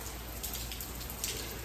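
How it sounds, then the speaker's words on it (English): Rain falls steadily outdoors, a soft, even hiss with scattered faint drop taps throughout, quiet and continuous with no voices. "it's raining"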